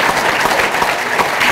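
Loud, close applause from the audience at a school commencement ceremony, a dense rush of clapping hands that continues without break.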